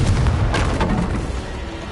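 A Confringo blasting spell goes off in a wizard video game, a loud, booming explosion with a rumbling burst that fades gradually over about two seconds.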